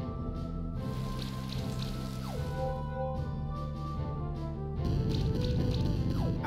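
A rain attack effect in the video game Monster Sanctuary hisses as a steady patter of falling drops over game music, swelling louder near the end.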